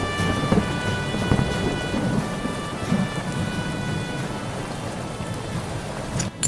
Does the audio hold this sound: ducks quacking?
no